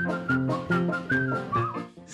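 Someone whistles a short melodic tune, a series of clear sustained notes in a steady rhythm, close and alone.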